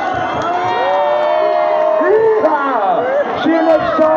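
A concert crowd cheers and whoops loudly and continuously, with shouted voices and babble blending into a dense, sustained roar of applause.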